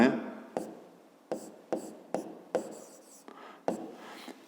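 Pen or pencil writing on paper during a fifth-grade maths lesson, several short scratchy strokes in quick bursts separated by brief pauses, close and fairly quiet, with no talking.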